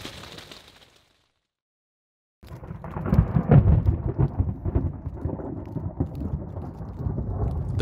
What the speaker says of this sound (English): The thunder came back in the early morning